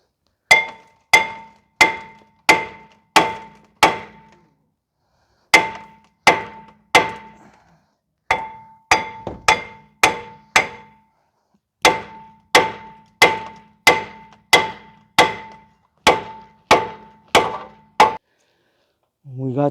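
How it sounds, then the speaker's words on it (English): Repeated sharp metallic strikes from an orange Mac Tools dead blow ball peen hammer working on a vehicle's front brakes, landing in quick bursts of four to six blows separated by short pauses, close and loud. "I have this orange Mac Tools dead blow ball peen hammer."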